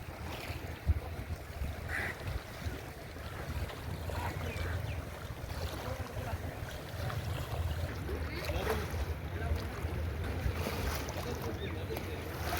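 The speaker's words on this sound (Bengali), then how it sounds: "ঢেউগুলো এসে নদীর পাড়ে এসে পড়ছে।" Waves wash gently and continuously against the bank of the Padma river at Rajshahi, a soft, low surf under light wind, with faint voices in the background.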